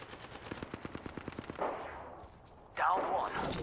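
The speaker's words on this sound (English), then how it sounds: "Firing, taking fire." Rapid bursts of automatic gunfire in Apex Legends, a quick rhythmic string of shots followed by two louder blasts of fire, under brief spoken voices.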